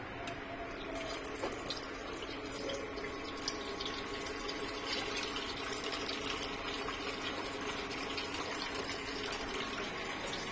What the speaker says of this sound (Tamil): இங்க தண்ணி ஊத்துது